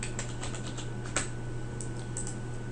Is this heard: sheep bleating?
no